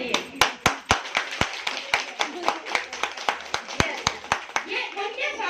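An audience at a skin treatment and makeup training session claps in a steady run of about twenty crisp claps to welcome guests, with a murmur of voices underneath.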